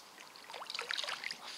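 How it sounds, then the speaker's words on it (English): A hooked chub thrashing at the surface of a canal in winter, giving a close run of irregular splashes and watery slaps with no talking. "And I've just had another fish take the bait. No doubt you can hear it splashing around there."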